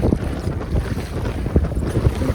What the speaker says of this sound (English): The wind's coming across the long part of the lake here.